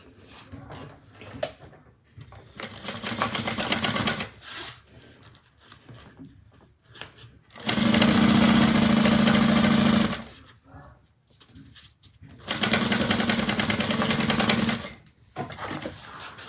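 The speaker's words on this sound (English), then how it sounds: "we're going to sew that side the same way at a 1/4 inch seam allowance" Sewing machine stitching a zipper to a bag lining at a quarter-inch seam: two long, loud, steady whirring runs and a shorter one, separated by quieter pauses with handling noises.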